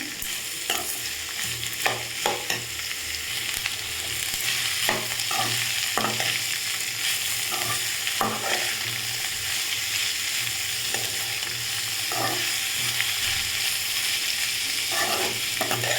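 Green chillies sauté in a hot pan for potato masala, a faint continuous sizzle broken by intermittent scraping stirs of a spatula.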